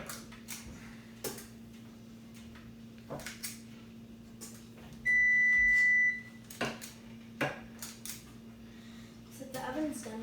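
A kitchen oven gives a single loud, steady electronic beep lasting about a second, standing out from faint background clatter and room hum.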